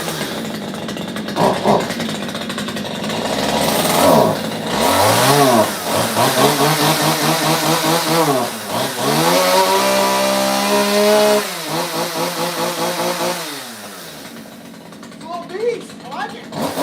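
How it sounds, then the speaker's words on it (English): Chainsaw starting and revving in a garage, with several rising and falling engine runs, a long sustained high rev in the middle, then idling down near the end; loud and close. "I've only used this chainsaw like twice."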